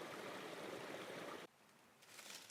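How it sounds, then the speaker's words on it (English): A babbling woodland brook runs over small ledges, a steady broadband rush of water that drops to a quieter trickle partway through before swelling slightly again. "listen to that water run over these little ledges and meander down through the woods"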